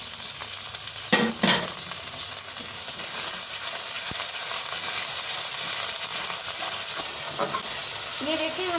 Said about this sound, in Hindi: इसमें हम ये हरी मिर्चें डाल देंगे और ये टमाटर भी डाल देंगे